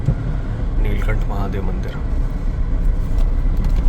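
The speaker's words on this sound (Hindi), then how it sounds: "गाड़ी आगे लगाता हूँ मैं" A car's engine rumbles low and steady as it is driven slowly forward to park near a temple, with someone talking over it.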